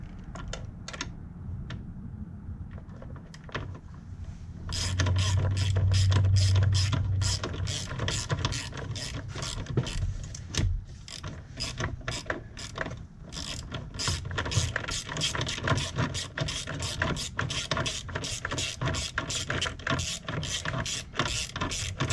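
Ratchet driving a 7mm socket through a swivel head and extension while working under a car's AC area, giving a long run of rapid, close clicking pawl strokes with brief pauses between bursts.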